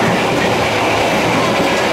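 Riding aboard the Bengawan train between Jakarta and Yogyakarta near Bumiayu: a loud, steady rumble of wheels on rails with rhythmic clickety-clack, heard from inside the carriage, no voices.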